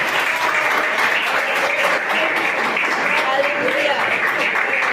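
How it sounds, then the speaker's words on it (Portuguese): Congregation clapping steadily in a church during an evening sermon service, a dense, continuous wash of many hands with voices mixed in throughout. "As palmas bem alegres para o Senhor Jesus."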